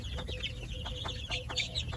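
One-month-old Dekalb White chicks cluck softly in short repeated calls over a low background rumble, fairly quiet and close by.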